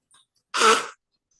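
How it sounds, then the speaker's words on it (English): A woman gives a single short, loud nose blow about half a second long, close by, between quiet pauses. "sorry about blowing my nose"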